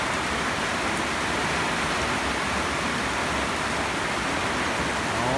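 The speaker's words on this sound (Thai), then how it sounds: "ฝนตกแรงครับผม" Heavy rain pours down in rural Thailand, a dense, steady, loud hiss of falling water that stays unbroken throughout with no voices.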